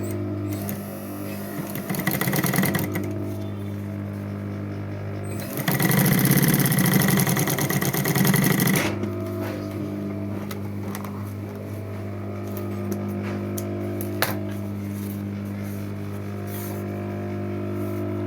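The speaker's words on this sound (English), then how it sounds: "so I'll stitch it." Sewing machine stitching a coin purse, a steady close mechanical hum with a louder, busier burst of stitching in the middle before easing back to a quieter run.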